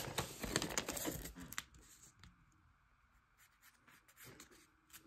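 Paper being creased and folded by hand for an origami spy plane, with crisp crinkling and scraping strokes close up, busiest at the start and then quieter, scattered handling sounds.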